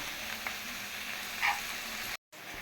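Okra frying in oil with onion, green chili and salt gives a soft, even sizzle, with a small clink near the middle and a brief dropout near the end.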